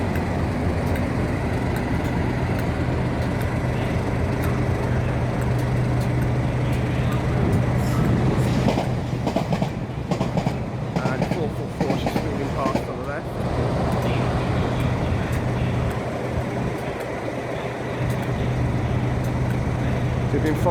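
A Class 450 electric train pulls away from a signal with a steady rolling hum and rising rumble, heard from the lineside with traffic noise and someone talking over it.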